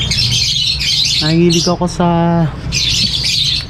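Aviary birds squawk and chirp in harsh, bright bursts at the start and end, close by, while a person talks in between.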